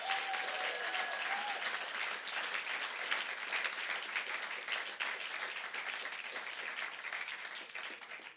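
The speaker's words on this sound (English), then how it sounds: "Keep that applause going for Bilal." Dense, steady audience applause at the Bankstown Poetry Slam fills the room for about eight seconds, loud and close, easing only slightly toward the end.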